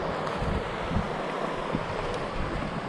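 Wind rushes and buffets steadily against the microphone on a ridge during a group ride, a continuous broad hiss with soft low gusts.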